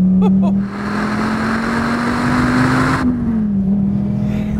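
An SRT Viper GTS engine accelerating hard, a steady loud drone heard from inside the car that climbs in pitch and then drops as the driver lifts off.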